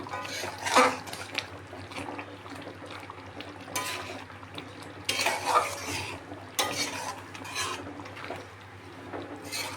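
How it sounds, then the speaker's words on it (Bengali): A spoon stirs egg korma with cumin powder in a pan, giving a few scraping, clinking strokes over a faint, low sizzle, close by with quiet gaps between the strokes. "এক চামচ জিরে পাউডার দিয়ে আবার একটু ভালো করে নেড়ে নেব"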